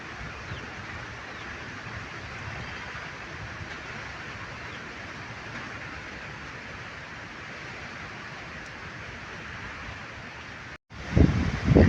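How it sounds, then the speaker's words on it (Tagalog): A strong, steady typhoon wind roars continuously as broadband rushing noise, loud and unbroken, then a brief cut and a few sharp knocks at the end. "Malakas na ang hangin mga idol."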